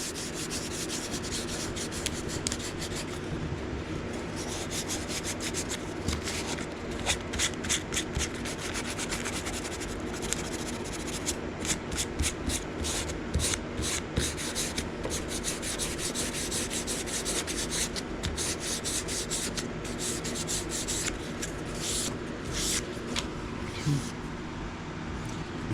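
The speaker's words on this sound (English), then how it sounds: "I'm using super thin sandpaper and it collects, it catches on edges" A handmade wooden wand is rubbed with super thin sandpaper, giving a constant close, rasping scratch with quick back-and-forth strokes throughout.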